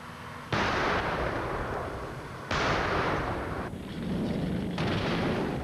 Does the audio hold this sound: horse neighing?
no